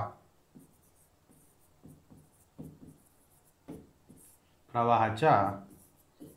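Writing on a board during a math lesson, with a series of short, quiet tapping strokes at an even pace, then a louder voice breaking in briefly near the end.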